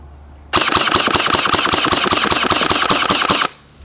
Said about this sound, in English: I want to see the rate of fire on full auto